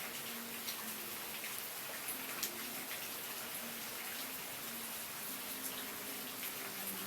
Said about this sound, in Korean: 빗소리가 아주 큽니다.